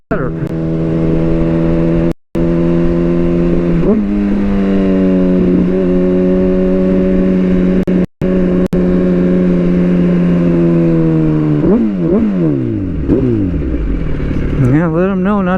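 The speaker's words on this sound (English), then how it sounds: "A little rev bombing, it's okay." A car engine revs hard on an open road, a loud sustained drone that climbs and falls through repeated rev surges over about fifteen seconds, with wind buffeting and a brief voice under it.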